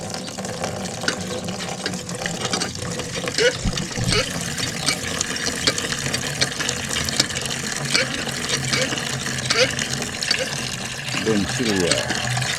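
A hand water pump draws water from a sandy well with a continuous splashing gush and occasional creaks of the handle, while people talk over it nearby.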